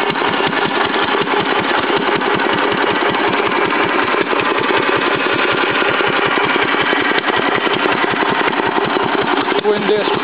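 A Witte oilfield engine runs steadily after being started, its rapid, even firing beats loud and close throughout, with a faint clatter over the rhythmic chug.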